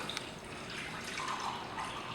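Water poured into a pot holding one cup of soaked rice, a soft, steady splashing trickle that runs unbroken at low volume for about two seconds.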